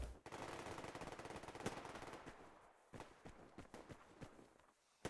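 Gunfire in the post-nuclear shooter game Survarium: dense bursts of automatic shots crackling loudly for several seconds, then sparser single and short-burst shots with brief pauses between them.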